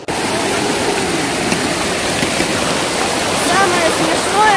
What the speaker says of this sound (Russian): это просто ручей, который несется, и люди на нем вот так вот держатся